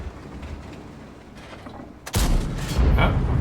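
A Kpz 07 P(E) tank's main gun fires a blind shot in a tank game, a single loud, booming blast that bursts in abruptly after quieter rumbling and then rolls on.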